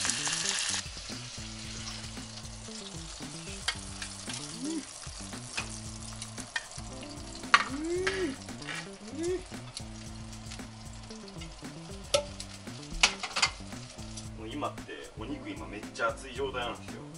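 Crispy-skinned chicken thigh steak frying in a pan with a bright crackling sizzle and occasional pops, heard close under steady conversation between people.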